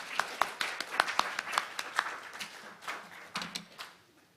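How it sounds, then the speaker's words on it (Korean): An audience at an international marine educators' conference claps. It begins with a few sharp, distinct claps, grows into brief light applause, then fades out within a few seconds in a quiet hall. "박수를 쳐주신다면 열심히 발표해 보겠습니다."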